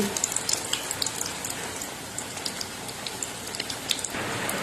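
Eggplant slices fry in a pan of boiling oil, a dense steady sizzle with scattered crackling pops throughout, close and alone without voices.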